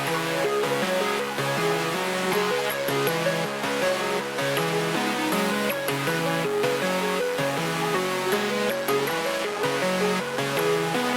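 A steady, continuous melodic music loop for a trap-style beat, built in FL Studio, with layered sustained notes playing at an even level without a break and no voices.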